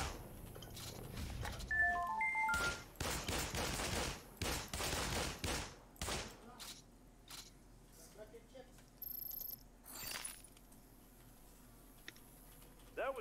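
Rapid bursts of light machine gun fire in the shooter game The Cycle, loud and clustered in the first half and fading to sparse shots, with someone talking over it.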